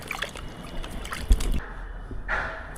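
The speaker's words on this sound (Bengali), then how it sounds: "আদা পরিষ্কার করে ধুয়ে নিয়ে আসছে" Fresh ginger being rinsed and washed by hand in water, with brief sloshing and splashing bursts alongside a few quieter pauses, close by.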